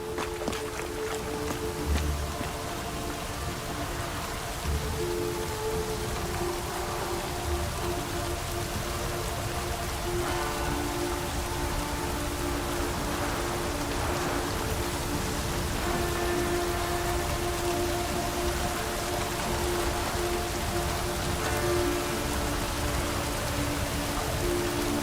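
Steady rain falls in The Witcher 3: Wild Hunt, a continuous soft hiss across the whole stretch, with a low background hum and a few faint game tones beneath it and no talking.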